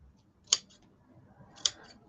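Scissors trimming craft material at a crafting table, two crisp separate snips about a second apart, close but quiet against a soft background.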